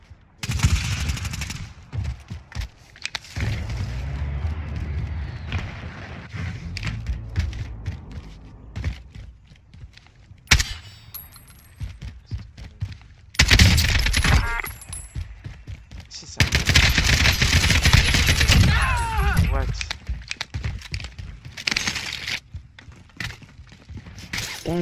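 Bursts of AK47 automatic gunfire in the video game Warzone, loud and repeated across the scene, with rapid volleys, scattered single shots and a few sharp impacts.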